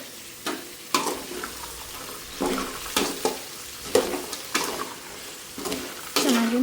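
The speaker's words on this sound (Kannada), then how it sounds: "ಬಟಾಣಿ ಮತ್ತು ಕ್ಯಾರೆಟು ಹುರುಳಿಕಾಯಿ ಇದನ್ನು ಚೆನ್ನಾಗಿ ಎಣ್ಣೆನಲ್ಲಿ ಫ್ರೈ ಮಾಡ್ಕೋಬೇಕು" Peas, carrots and green beans frying in oil in a home kitchen, with a low steady sizzle broken by repeated scraping stirs every second or so, close by.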